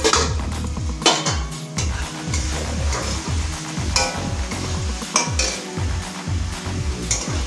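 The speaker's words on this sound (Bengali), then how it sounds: "মশলাটা ভালো করে কষানো হয়ে গেছে।" Spice paste fries in oil for a rohu fish curry with lentil dumplings, heard as a busy sizzle under repeated scraping and clattering strokes of a spatula against the pan, close and fairly loud, with no speech.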